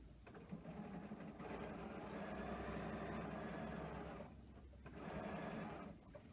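A sewing machine top stitches the fabric edges of a scrunchie, its motor whirring in a steady, rapid run for several seconds, pausing briefly, then resuming, close but quiet.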